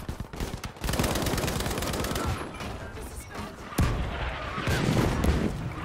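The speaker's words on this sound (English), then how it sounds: "Enemy artillery." Artillery and gunfire in the Battlefield 5 game sound as loud, sustained rumbling blasts with a rapid crackle, plus a heavy boom partway through, continuous and close.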